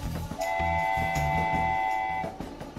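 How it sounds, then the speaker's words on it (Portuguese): A train sounds a long sustained horn over rumbling wheels, loud and close, lasting about two seconds before fading. "Trem."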